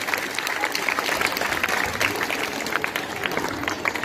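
Sustained audience applause greets the headmistress at a government school's Independence Day celebration, with dense, steady clapping from a crowd for about four seconds and no voices over it.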